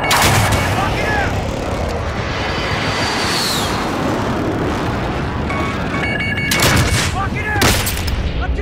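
Sniper gunshots in a shooter video game crack out as a few sharp reports, the loudest near the end, over dense rumbling combat noise and faint in-game voices.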